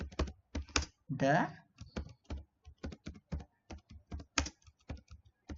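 Crisp, evenly spaced clicks from a computer keyboard as PHP code is typed, close and distinct with short gaps between strokes; someone speaks briefly near the start.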